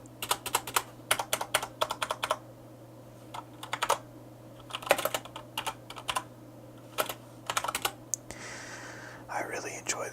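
Typing on a Corsair K70 RGB MK2 mechanical keyboard with Cherry MX Brown switches, close bursts of rapid key clacks with short pauses, ending in a brief soft rustle.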